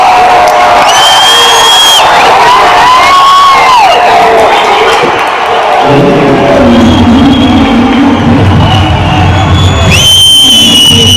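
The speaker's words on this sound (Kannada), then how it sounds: "ಕ್ರೇಜಿ ಆಗಿದೆ ಕ್ರೌಡ್ ಮಾತ್ರ." Crowd at a CCL celebrity cricket match cheering loudly throughout, a roaring mass of shouts and whoops with shrill whistles rising and falling, close and intense.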